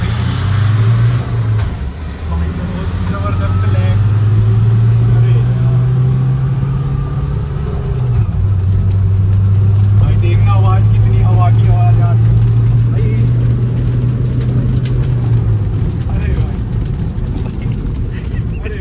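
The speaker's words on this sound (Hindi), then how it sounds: "तो ड्रैग रेस स्टार्ट करते हैं फर्स्ट राउंड।" New and old Mahindra Thar engines roar through a drag race, a loud sustained drone that rises in pitch, dips briefly, then climbs again, with wind noise and a voice talking over it.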